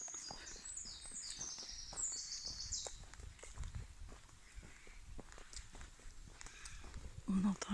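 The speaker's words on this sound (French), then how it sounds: "On entend les oiseaux." Faint birdsong chirps high above the crunch of footsteps while walking through a dark forest at dawn, with someone talking quietly over it.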